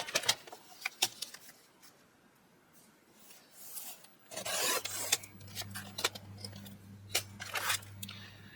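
Album paper being trimmed for a Kmart-style Christmas recipe album: scattered dry rasping cuts and rubbing strokes, a steady low hum joining halfway through, close and moderately quiet with no talk.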